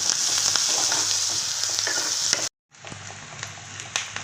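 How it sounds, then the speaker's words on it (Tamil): Onions and garlic sautéing in a pan for a brinjal gravy, giving a steady close sizzle with scattered crackles and a brief stir-break in the middle, no talk. "இது நல்லா வதங்கட்டும்."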